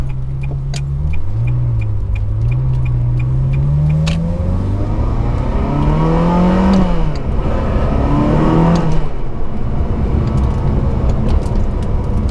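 A Ferrari 360 engine revs hard and accelerates, its pitch climbing steadily through several gear changes with brief lifts between them, loud and close throughout.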